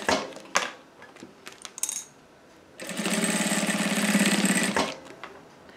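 A sewing machine stitches a seam on a clear cosmetic bag, with a sharp clack and a few light handling noises before a steady loud mechanical run of about two seconds, then it stops.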